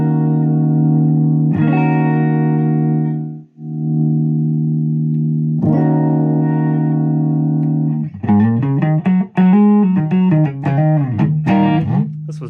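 Electric guitar with a distortion effect, sustained gritty chords ringing out and cut off, then quicker choppy riffing with pauses, loud and alone without talk.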